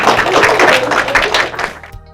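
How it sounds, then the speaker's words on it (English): Schoolchildren and adults applaud at an elementary school, a short burst of clapping from a group that fades out after under two seconds. "Give them a round of applause."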